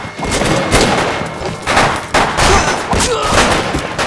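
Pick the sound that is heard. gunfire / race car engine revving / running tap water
gunfire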